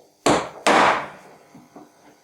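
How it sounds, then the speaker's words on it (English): Two sharp hammer blows strike a chisel set vertically in a wooden trough while cutting a small wall cupboard joint, the second slightly louder, followed by a few faint knocks. "I then position my chisel in this trough and hammer down vertically. Don't give it too much welly, just a light tap."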